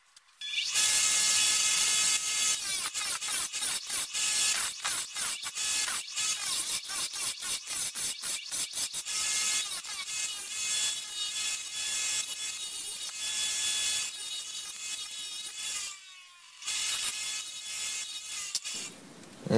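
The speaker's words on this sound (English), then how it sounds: "I'm just going to cut a little triangle into there so it's easier on my Dremel" A small triangle is cut into a steel knife blank with a hand saw or file, producing a long run of loud, close, rapid rhythmic rasping strokes that continue almost without pause, with a brief break near the end.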